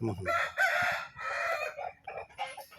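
A fighting rooster raised for cockfight betting crows nearby, one loud drawn-out call with a few clucks after it.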